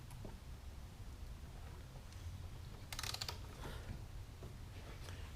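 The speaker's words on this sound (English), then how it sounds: "This is a ratcheting screwdriver. So you can keep it on there and you just tighten and then go back and forth." Ratcheting screwdriver worked back and forth while tightening a bolt on a 2007 Jeep Wrangler during an alternator replacement, a short burst of rapid clicking amid soft handling noise and a low background rumble.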